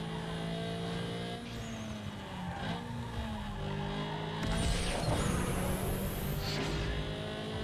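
Car engine droning steadily while driving in the racing video game Need for Speed Underground 2, a somewhat muted continuous tone with shifting pitch and brief tire-squeal or skid-like bursts near the end.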